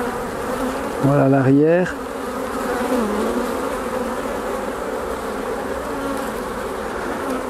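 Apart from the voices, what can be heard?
honeybees buzzing during transfer from nucleus box to hive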